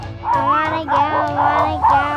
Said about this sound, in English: Parker, what do you think the dogs are all saying?